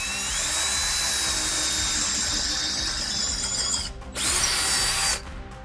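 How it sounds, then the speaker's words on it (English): A power drill with a 1/4 inch bit drills a hole into a wall, giving a steady, loud high whine. It dips briefly, then runs in one more short burst before stopping. "1/4 inch size drill bit to drill a secondary hole."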